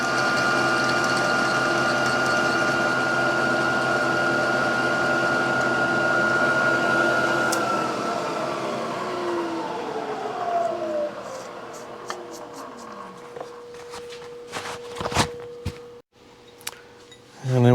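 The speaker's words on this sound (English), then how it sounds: "Running about 300 RPM on the mill here." A milling machine spindle running at about 300 RPM while fabricating a rear sprocket for a Yamaha Trailmaster 100 YL2C, a steady geared mechanical whine and hum that winds down and slows after about eight seconds, followed by scattered clicks and knocks.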